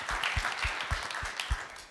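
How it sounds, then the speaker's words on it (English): Applause from an audience at a board discussion event, a light smattering of clapping in the background with a few sharper claps standing out, moderate and steady for about two seconds. "deserves an applause."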